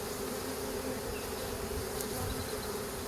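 A swarm of honeybees being moved into a new hive gives off a steady, dense buzzing hum that holds even throughout, with no voices over it.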